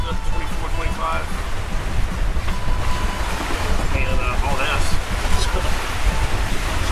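Strong wind roars steadily over the rush of large ocean waves aboard a sailboat running downwind in gusts of 20 to 27 knots, a constant broadband wash with faint voices briefly audible.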